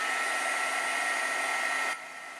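Hair dryer blowing steadily on a watercolor painting, a loud constant whirring rush that drops to a softer hum near the end, with no talking.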